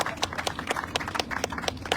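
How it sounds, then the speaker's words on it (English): Applause from a small audience at a Baltimore County announcement on redeveloping Security Square Mall: a short burst of scattered, uneven hand claps close by, with no speech over them. "That's worth an applause."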